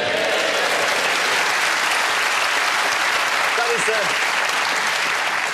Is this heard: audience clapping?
yes